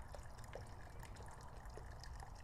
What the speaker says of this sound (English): we're gonna go ahead and pour muriatic acid in here